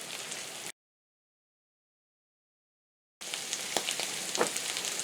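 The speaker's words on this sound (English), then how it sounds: "the butter is melting in this pan" Butter melting in a hot frying pan for a homestead breakfast gives off a steady, close crackling sizzle with soft pops, cut off completely by a stretch of silence before the frying returns.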